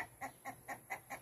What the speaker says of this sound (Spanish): les estoy mostrando el gallinero, miren, ahí andan bien felices y contentas